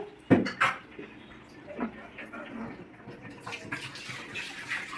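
Water splashing and being poured into a bucket in a home kitchen, a couple of louder splashes at the start followed by a softer steady trickle and handling clatter.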